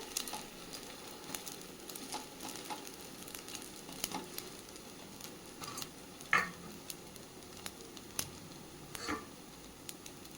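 Dosa sizzling and frying crisp on a hot pan for breakfast, a steady close sizzle with scattered small pops and crackles throughout.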